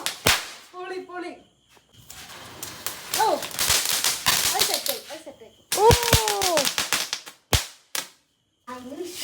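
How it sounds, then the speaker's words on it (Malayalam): Firecrackers burst during a family Vishu celebration: sharp, scattered cracks and pops, some loud and close, separated by short gaps, while people talk and call out between the blasts. "ആരവിടെ പടക്കം പൊട്ടിച്ചു?"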